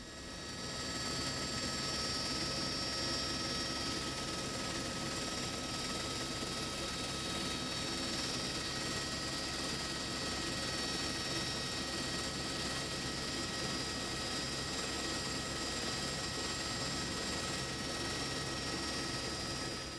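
A police helicopter drones steadily overhead for the full stretch, a constant loud whirring engine tone with no breaks or voices.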